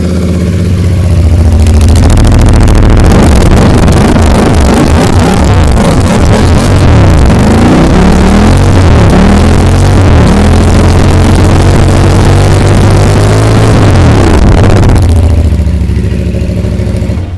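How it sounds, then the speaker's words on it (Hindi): A CF Moto CLC 450 Bobber idles loud and close through twin mufflers, a deep steady engine rumble with slight revving that runs nearly the whole time before cutting off. "आपको इसका साउंड भी चेक कराता हूँ ऑन करके।"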